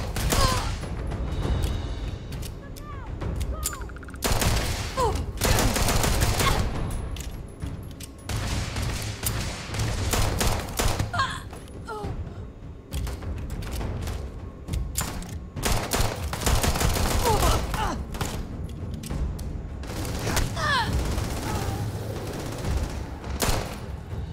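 Repeated bursts of rapid automatic gunfire in the sci-fi video game Starfield, loud volleys separated by short pauses, with occasional booms and mechanical clatter throughout.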